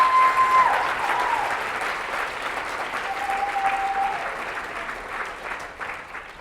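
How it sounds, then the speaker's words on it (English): Sustained applause from a large audience at the Z Day 2013 event, a dense wash of clapping that stays fairly loud and even, tapering slightly toward the end. "Let's give them a round of applause"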